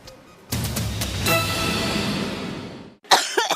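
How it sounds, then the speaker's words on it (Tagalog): A single harsh, drawn-out cough, close and loud, followed by a brief burst of another cough or voice. "Matigas yung ubo."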